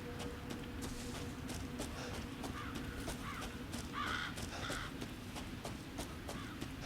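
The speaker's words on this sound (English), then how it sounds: "Bye, crows." Crows caw faintly several times in the game Resident Evil 7, a few harsh calls over a dense, steady ambient background with no talking.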